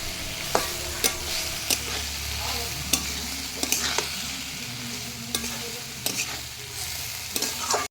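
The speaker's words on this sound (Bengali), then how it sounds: "সবজি আর মশলা একসঙ্গে আমি কষিয়ে নেব" Vegetables and mustard-spice paste stir-fried in a pan, a continuous sizzle broken by regular sharp clacks of a spatula against the pan, close and fairly loud with no talking.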